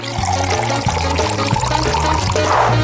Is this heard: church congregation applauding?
no